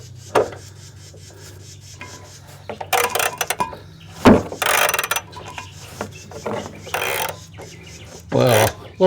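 A ratchet wrench works on a car engine in bursts of close, loud clicking and metallic ratcheting, separated by quieter pauses and one sharp knock midway.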